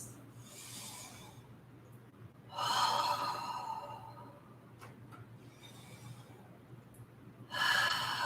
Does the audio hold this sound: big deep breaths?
yes